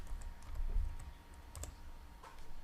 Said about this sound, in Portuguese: Pressiono a tecla Enter e vou abrir essa pasta.